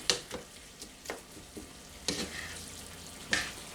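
Pre-cooked rice being stirred into sauce in a hot pan, giving soft sizzling and scraping with a few brief spoon knocks, close by and moderately quiet.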